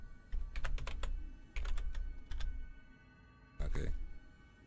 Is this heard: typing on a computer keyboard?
yes